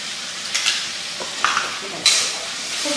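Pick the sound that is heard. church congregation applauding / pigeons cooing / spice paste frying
spice paste frying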